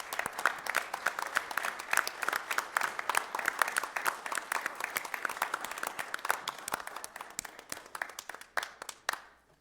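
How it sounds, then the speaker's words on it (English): Applause fills a city council meeting for an award recipient, dense steady clapping from a room of people that holds strong throughout before thinning toward the end. "So I'd like to have a round of applause for Jill."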